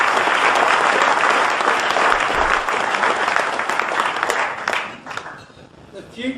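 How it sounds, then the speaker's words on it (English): An audience at a political speech breaks into loud sustained applause, dense clapping that holds steady for several seconds before thinning out toward the end, with a voice briefly heard over it. "Applause now."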